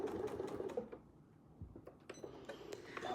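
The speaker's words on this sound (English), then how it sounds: "we'll just tack this off with a few tacking stitches" Sewing machine making a few tacking stitches, short bursts of quick needle clatter followed by light taps and clicks, fairly quiet.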